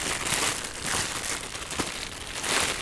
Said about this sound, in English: it's a patio door insulation shrink kit. And it's just very thin, clear plastic.